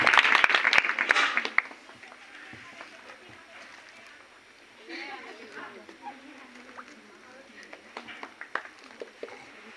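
Seminar audience at a block-level education gathering gives loud applause for the chief guest; a burst of clapping fills the first second and a half, then fades into a quiet room with scattered faint sounds.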